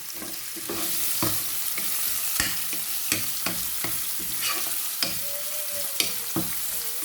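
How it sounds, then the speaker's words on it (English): Kale or spinach frying in a pan for a beef stew and ugali meal, with a steady broadband sizzle and repeated sharp clicks and scrapes of stirring throughout, close and alone with no talk. "I'm gonna fry this. So for my spinach, I want them to be a little bit brown."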